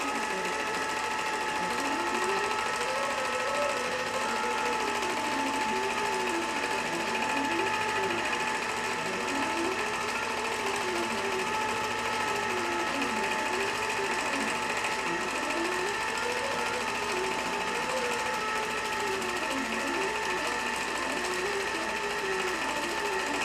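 A sewing machine stitches a custom line pattern across a quilt with a steady, continuous mechanical whir and a rhythmic needle clatter that runs close and even throughout.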